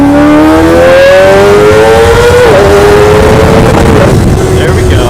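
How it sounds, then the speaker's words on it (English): Kawasaki Ninja 250 motorcycle with a loud Bosozoku-style exhaust, revving hard in a rising, sustained wail, then shifting and fading slightly while riding through Tokyo streets. "Give us some Bosozoku exhaust."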